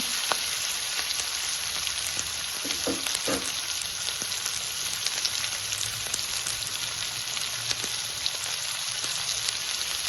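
Capsicum being mixed and cooked in a pan for capsicum bhurji, a steady close sizzle with occasional scrapes and taps of a spatula, no voices.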